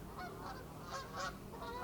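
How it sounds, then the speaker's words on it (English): Geese honk repeatedly while flying overhead in South Wales, several overlapping calls in a steady, moderately distant chorus without talk. "With the geese flying overhead."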